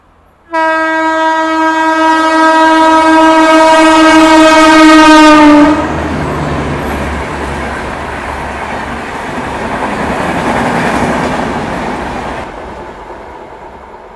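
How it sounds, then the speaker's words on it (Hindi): A loud horn from the Avadh Express train in India blares for several seconds, then the train rumbles and clatters past close by, fading slowly as it goes. "ये कोई बढ़िया EOG वाली गाड़ी जा रही है।"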